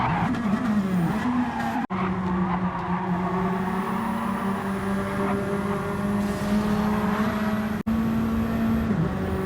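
Race car spinning out at Blue Moon Bay Speedway in a GT Ontario event, with a sustained engine drone and tire skidding that rises and falls across the whole stretch, loud and close.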